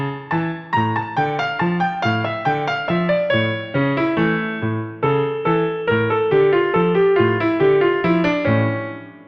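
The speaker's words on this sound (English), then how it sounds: "And some other falsetas of fandango in E Phrygian dominant mode sound like this." Flamenco guitar plays fandango falsetas in E Phrygian dominant mode, a steady run of plucked melodic phrases over bass notes, close and clear with no voices.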